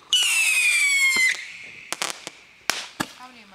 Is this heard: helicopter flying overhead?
no